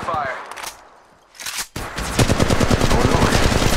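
Automatic weapon fire in the mobile battle royale game Apex Legends Mobile, a loud, rapid burst of gunshots that starts after a brief pause and continues steadily to the end.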